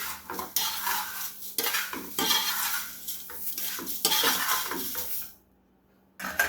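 A utensil stirring butter (zebda) into a thick sweet mixture in a pot, repeated scraping and clinking strokes at close range, pausing briefly near the end before resuming.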